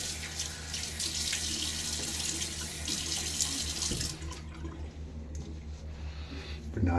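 Water runs steadily from a sink tap for about four seconds while a face is wetted for a shave, then shuts off, leaving a quiet room with faint splashing and handling sounds.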